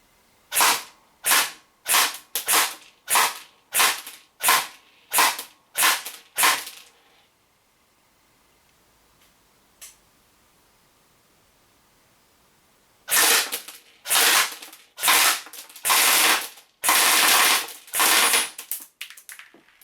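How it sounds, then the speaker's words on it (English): A DYTAC SLR Airsoft Works Krink AK airsoft electric gun fires about ten evenly spaced semi-auto shots at a 10-metre target, then after a quiet pause lets off sharp full-auto bursts, loud and close. "range test, 10 shots on semi-auto. I'm literally just pointing the gun at the middle of the target, 10 meters, and then I'll do a burst on auto"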